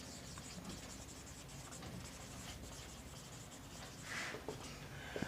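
Marker or chalk writing on a board during a matrix multiplication maths lecture, a steady faint scratchy rubbing that runs throughout, with a slightly louder stroke near the end and no talk over it.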